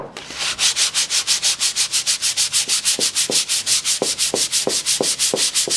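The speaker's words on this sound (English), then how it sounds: "So I'm just going to get a piece of old 320 grit sandpaper and just go over it really lightly." Light hand sanding of dry polyurethane-coated wood veneer on a vintage hi-fi cabinet with worn 320 grit sandpaper, following the grain: steady rhythmic back-and-forth rasping strokes, close and fairly loud, with no talking.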